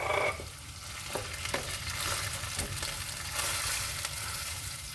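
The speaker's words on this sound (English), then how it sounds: "add that nice tomato to your onion garlic." Tomato puree is stirred into onion and garlic frying in a pan for a vegan tandoori pasta sauce, a steady close sizzle broken by spoon scrapes and clacks, with no voices.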